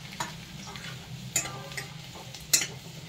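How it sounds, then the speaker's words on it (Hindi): Garlic dropped into hot oil in a pan for dal, frying quietly with a low steady sizzle while a spoon stirs it, with a few sharp scraping clicks. "तेल गर्म हो चुका है, मैं डाल दूंगी लहसुन"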